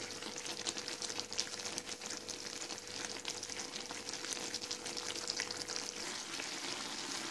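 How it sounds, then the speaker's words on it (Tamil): Eggplant masala sautéing in a pan gives a continuous, even frying sizzle with faint stirring, close but fairly quiet and with no voices. "இப்போ தான் அப்படியே நல்லா வதங்கி போயிடும்"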